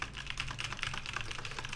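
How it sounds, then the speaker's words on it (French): Computer keyboard keys and mouse clicks picked up by an off-camera Synco Mic-D2, a fast steady patter of close, crisp taps running throughout with no voice. "Et voilà ce que ça donne avec clavier et souris."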